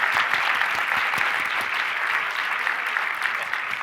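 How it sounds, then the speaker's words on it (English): An audience at a live pitch event applauds steadily, a dense, even wash of clapping that holds from start to finish with little talk above it. "Give them a big round of applause."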